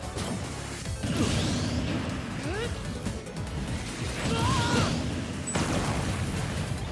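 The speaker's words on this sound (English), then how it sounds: "that explosion is beautiful" Video game explosions burst with crashes, booms and whooshing swishes, repeating in several loud hits while a person talks excitedly over the action.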